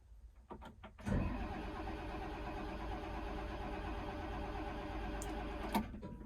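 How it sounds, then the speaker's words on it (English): A diesel machine's engine is cranked over repeatedly without catching, a steady loud mechanical churning that runs for about five seconds after a few brief knocks, then stops abruptly. "So we'll turn the machine over and see what pressure it creates."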